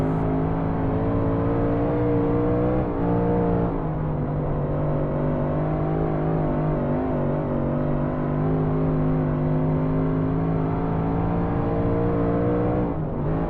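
A DIRTcar 358 Modified race car engine in iRacing, racing in the Ice Series at Knoxville Raceway, holds a loud, steady, droning roar with small pitch dips as the car lifts and gets back on the throttle.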